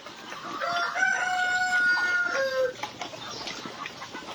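Chickens on a small farm, with a rooster crowing loudly and nearby hens clucking over a soft outdoor background.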